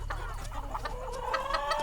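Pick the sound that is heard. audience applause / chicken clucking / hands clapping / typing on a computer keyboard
chicken clucking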